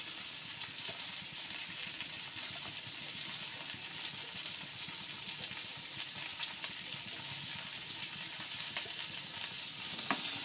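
Five or six garlic cloves sauté gently in a pan with a steady, even sizzle that runs without break, close and moderately loud, with a few faint clicks on top.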